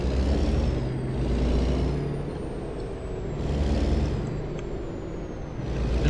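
A truck parking in American Truck Simulator: a loud, close engine rumble that swells and eases in waves, with hissing air-brake bursts and a thin high whine gliding over it.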